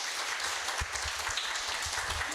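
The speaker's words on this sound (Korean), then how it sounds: "하나님께 감사의 박수" A congregation gives applause of thanks to God at a Palm Sunday praise and testimony service, a soft, continuous patter of many hands clapping together, heard from a distance.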